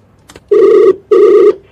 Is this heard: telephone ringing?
yes